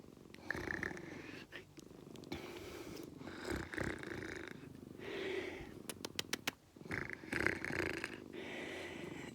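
A cat purrs close up with a soft, rhythmic rumble, broken by a few rustling and clicking noises.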